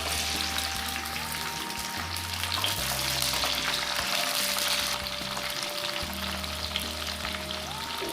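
Okra (bhindi) fries in oil in a hot pan, a steady dense sizzle close up and continuous for the whole stretch, with no talking.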